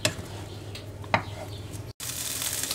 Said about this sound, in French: Also die Zwiebeln braten schon in der Pfanne seit 2 Minuten